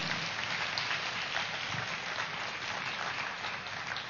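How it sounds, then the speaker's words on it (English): Crowd applause at the Awakening Youth Fest at Pyramid Valley International, a continuous rain-like patter of clapping heard from a distance at low volume. "So big round of applause for all of them."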